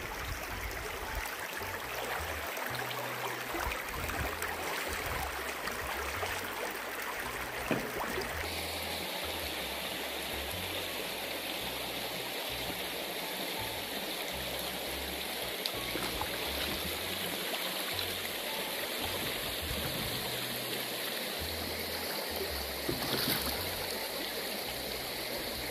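River water flows steadily near a farm, a continuous rushing, gurgling stream heard alone and at an even level throughout.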